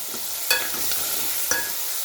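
Sun-dried mango, cluster bean and turkey berry vathal fry in a pan for a tangy tamarind kuzhambu: a steady soft sizzle fills the short stretch, broken by two sharp spoon clinks against the pan.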